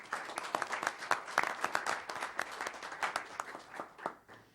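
Audience applause for an award recipient at a county public hospital board meeting, with steady clapping from a modest crowd in a room for a few seconds, tapering off at the end.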